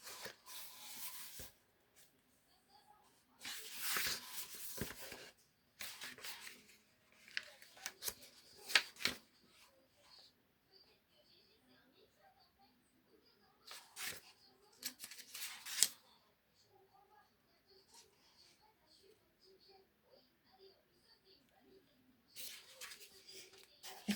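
Scissors snip through paper at a craft table, heard as a few quiet, scattered cutting sounds among soft rustling and handling noises.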